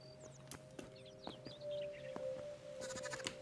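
Sheep and lambs bleat in the Hytale video game, several short wavering calls amid chirping birds and a steady tonal drone in the game's outdoor setting.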